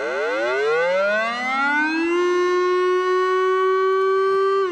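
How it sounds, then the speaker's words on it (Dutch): A civil defense air raid siren wails, loud and steady, its pitch climbing smoothly over the first two seconds and then holding high, with no other sounds. "Maar de minister wil het loeien van de sirenes stoppen vanaf eind volgend jaar."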